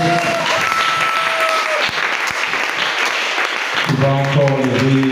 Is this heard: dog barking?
no